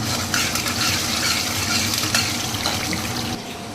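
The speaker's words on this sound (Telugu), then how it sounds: "నెక్స్ట్ వచ్చేసి ఇందులో పచ్చిమిర్చి వేసేస్తున్నాను" Green chilies fry in light oil for a potato fry and are stirred in the pan, giving a loud, close, continuous sizzle with scraping stir sounds, easing off near the end.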